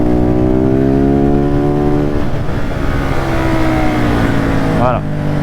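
A KTM 690 SMC R supermoto engine pulling hard while overtaking, a loud close single-cylinder drone with rising harmonic pitch under heavy wind rush, ending in a quick revving shift near the end.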